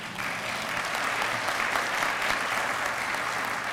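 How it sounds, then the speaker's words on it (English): At a college foundation partner breakfast, a room of guests breaks into sustained, even applause, with dense clapping holding at a steady level throughout. "Give that man a round of applause"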